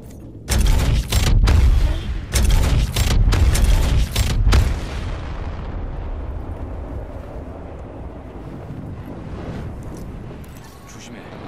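Heavy booming blasts from a cannon in Apex Legends, fired in a quick run of several loud, close thumps over about four seconds, followed by a fading rumble and ambient game noise.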